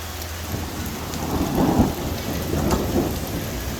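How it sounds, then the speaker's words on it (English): Steady rain and rolling thunder from a storm over a tiny cabin building site, a loud continuous downpour with low rumbles swelling in the middle and again toward the end. "Lightning, rain."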